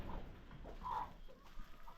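Chickens on a farm in Panama cluck softly in short scattered calls, faint and close, against a quiet low background rumble.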